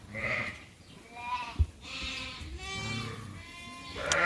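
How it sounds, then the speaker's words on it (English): Suffolk lambs on a sheep farm bleating several times in close succession, nearby and fairly loud, with a brief low thump partway through. "These are the older Suffolk lambs."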